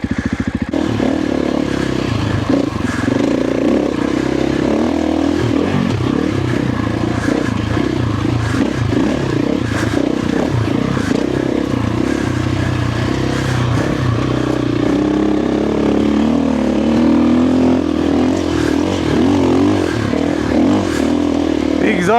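A motorcycle fitted with a Dobeck EJK fuel controller and Fastway ProMoto billet exhaust end cap revs and runs loudly, with a steady throaty engine note, rising pulls and mechanical clatter throughout, and a voice talking underneath.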